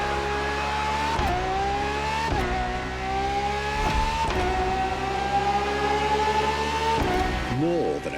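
Ferrari FXXK race car engine in The Crew Motorfest, a high steady engine tone climbing through the gears with sharp drops at each shift, close and loud, while someone talks over it.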